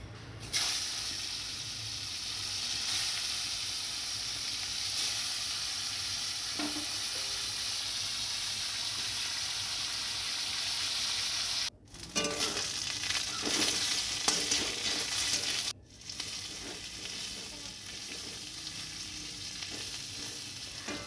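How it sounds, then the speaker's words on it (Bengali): Hilsa fish heads frying in oil give off a continuous dense sizzle and hiss, steady and close. Two brief breaks interrupt it and a few louder crackling bursts follow. No voices. "এবার আমি মাথাগুলো ভেজে নেব"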